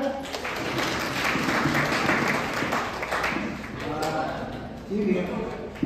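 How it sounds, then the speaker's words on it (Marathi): A crowd at a Marathi poetry competition at a college in Vani, Nashik, gives loud, sustained applause that fades and swells. Voices and some tonal sound mix in with the clapping. "जोरात टाळ्या होत्या."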